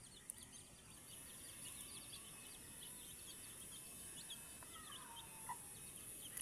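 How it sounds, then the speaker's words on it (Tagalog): A mother hen clucks softly while scratching at an ant nest for her chicks, faint and distant over quiet outdoor ambience with chirping birds and insects. "So, the mother hen destroying the house of ants"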